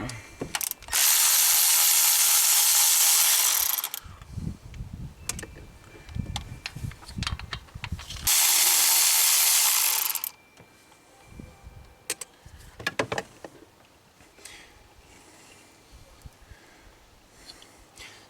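A ratchet wrench clicks in quick bursts while three 10mm nuts are backed off on a GM truck, broken by two long loud hissing rushes and scattered metallic clanks and taps nearby, with no talking.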